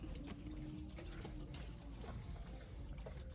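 Distilled eucalyptus oil trickles steadily out of a still, a faint, continuous liquid dribble and pour with low background rumble and scattered small clinks.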